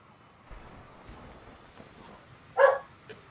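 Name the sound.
dog barking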